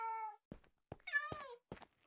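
Minecraft cats meowing several times in quick succession, short clear mews separated by silence, alone and fairly close.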